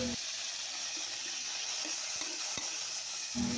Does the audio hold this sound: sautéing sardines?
yes